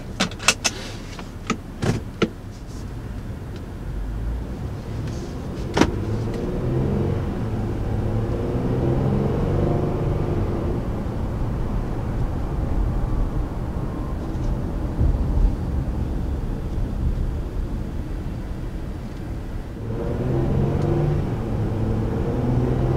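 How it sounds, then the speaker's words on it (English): A 2019 Honda Ridgeline pickup truck accelerating on the road, heard from inside the cabin as a steady rising engine drone with road rumble, preceded by a few sharp clicks and knocks at the start. "acceleration feels pretty strong in the Ridgeline, and the engine has a pretty nice sound"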